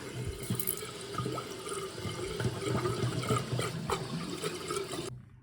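A toilet cistern with a Fluidmaster fill valve refills to the overflow: water rushes and trickles steadily nearby for about five seconds, then cuts off abruptly into silence.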